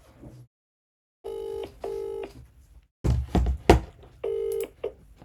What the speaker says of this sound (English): Let's call Peter.